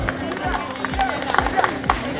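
A crowd claps at a village tug-of-war match, scattered sharp claps rising and thickening under loud babble and a steady announcer-like voice nearby.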